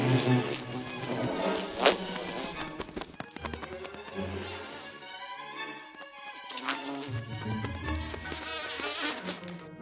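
Bees buzz around forest flowers in a steady insect drone, with nature sounds and a voice narrating over it.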